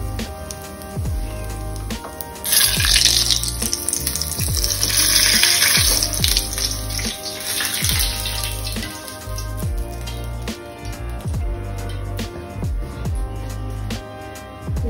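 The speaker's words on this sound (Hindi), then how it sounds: "निकाल के छौंक लगा दीजिए।" Hot oil sizzles and crackles loudly as spices, including cumin, hit the pan for tempering, a bright hiss that surges then settles into steady frying.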